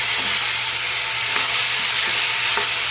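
Chicken sautéing in a pan with ginger and chili, a dense continuous sizzle with faint stirring scrapes, close and loud with no talk.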